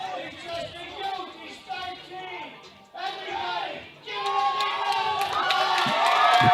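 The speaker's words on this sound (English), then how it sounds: "The crowd here in Lafayette, ballroom is full. People are on their feet." Packed ballroom crowd at a youth powerlifting nationals in Lafayette, a steady babble of voices and scattered whoops that swells into louder, sustained cheering as people rise to their feet.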